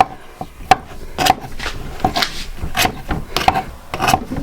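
A knife trims the edges of pie pastry laid over a tray for a prawn, tuna and potato pie, making close, repeated scraping and cutting strokes in an irregular rhythm with no talk.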